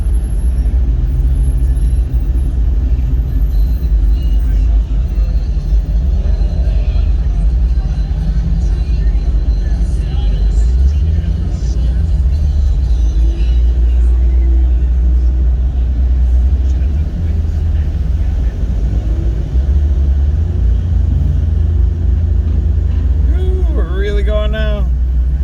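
Heavy low engine rumble of cars cruising past at the Woodward Dream Cruise classic car event, a continuous loud drone with passing vehicles and a brief horn-like tone near the end, people talking faintly in the background.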